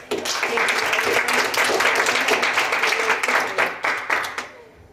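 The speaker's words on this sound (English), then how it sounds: "So I just want to give our panelists another big round of applause." An audience applauds a panel discussion at a bike expo: dense, sustained clapping from a crowd that holds steady for several seconds and then tapers off near the end, with no voices over it.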